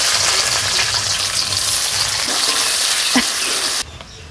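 Onions sizzle and fry in hot oil with pre-fried vegetables, potato and taro, a steady close crackle with a few stirring clatters before it suddenly drops away near the end.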